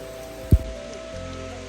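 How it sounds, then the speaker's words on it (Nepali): Rain falls on a Himalayan trail between Taksindu and Bupsa on the Everest base camp trek, a steady soft patter with one brief close thump partway through. "पानी पर्यो।"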